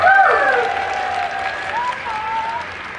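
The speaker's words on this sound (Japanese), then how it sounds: "大きな拍手をお迎えください" An audience at Universal Studios Japan applauds the arrival of Elmo and Cookie Monster after an AKB48 live show, steady crowd clapping carrying on beneath excited, high-pitched cheering voices.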